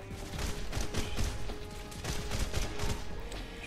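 Dense, continuous gunfire rattles through a Red Faction Guerrilla battle, with rapid shots layered over loud game noise for a few seconds and no voices.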